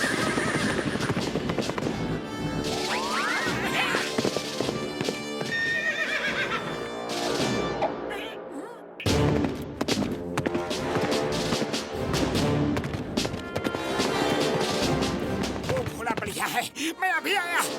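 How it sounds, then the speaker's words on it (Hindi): Cartoon horses whinnying loudly with galloping clip-clop hooves and busy animated sound effects and music, with one brief break midway before the neighing and hoofbeats resume. "वो देखो घोड़े, वो देखो, वो देखो, वो देखो घोड़े"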